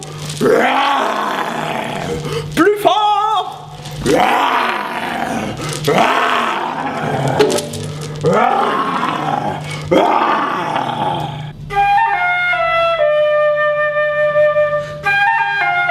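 A lion roars loudly again and again in long, rumbling bursts, a voice briefly calls out, and bright musical tones take over at the end.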